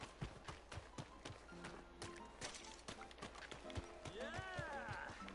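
Horse hooves clip-clop steadily in Red Dead Redemption 2, a regular walking rhythm of sharp knocks with a brief whinny near the end and a faint game soundtrack beneath.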